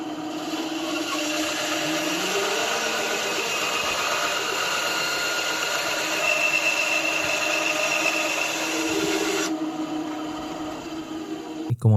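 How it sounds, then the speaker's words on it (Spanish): A TOTAL band saw rips a straight cut through a 2-inch wooden board, producing a steady whining buzz with a grinding edge that holds for about nine seconds before the blade runs freely and then clatters to a stop. "quiero poner la prueba con este listón de 2 pulgadas y le voy a hacer un corte recto"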